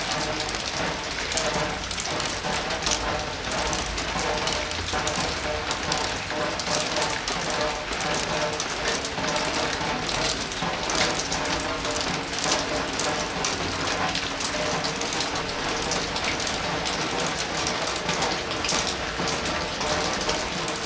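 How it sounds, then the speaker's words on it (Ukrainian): Water rushes steadily in a well under a building foundation, a continuous close hiss and splashing gush that holds at an even level throughout. "Колодязь, у якому вода шурує під фундамент."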